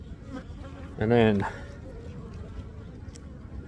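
A loud, low buzz of honeybee drones swells up close for a moment amid a steady hive hum, while someone speaks briefly in the background.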